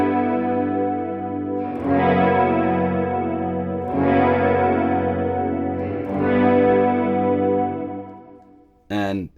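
Guitar played through a reverb pedal with chorus-like modulation, sustained shimmering chords struck three times about two seconds apart, each ringing out with swirling wash, followed by a brief pitch-bending tail at the end.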